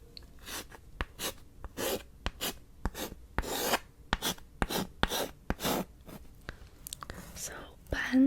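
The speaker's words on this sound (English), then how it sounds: "So let me write it out for you" Chinese characters are handwritten close up, with a steady series of short scratchy pen strokes in rapid bursts and brief pauses, intimate and quiet.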